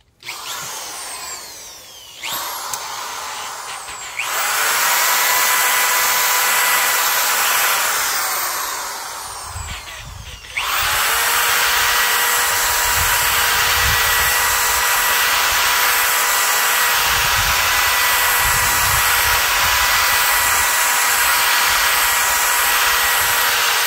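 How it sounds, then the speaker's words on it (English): Power drill polishing a Zarges aluminium case, a loud steady high whine that starts and stops briefly near the start, then runs continuously with a buffing hum for over ten seconds. "And now let me get the power drill going."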